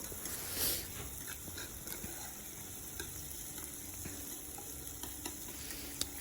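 Soft, steady sizzling of tomato and onion frying in a pan, quiet and continuous with faint stirring clicks.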